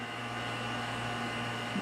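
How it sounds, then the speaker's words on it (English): A vacuum pump draws oil out through the dipstick hole of a Towmotor 461LP forklift engine, giving a steady, close, unbroken whir with a constant hum beneath it and no voices. "have to suck it out with the vacuum pump"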